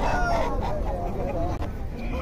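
Country roosters and hens crow and cluck at a village chicken market in Nallapadu, overlapping calls mixed with crowd murmur and nearby talk.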